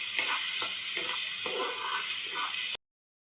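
Stuffed brinjal curry sizzles steadily in a pan while a spoon stirs it in several regular scraping strokes, close and fairly loud, with no talking.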